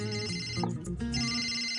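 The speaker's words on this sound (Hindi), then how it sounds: "घर से फोन है।" A telephone rings for a call from home, a bright electronic tone pattern that repeats over a dense background of music and crowd noise.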